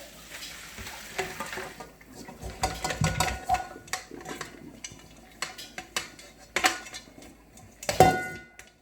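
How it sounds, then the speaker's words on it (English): Boiled, seasoned mutton strained in a kitchen brings clattering pot and utensil knocks with splashing and pouring noises, irregular and close by, with a few sharp metallic clanks toward the end. "I'm going to strain it here"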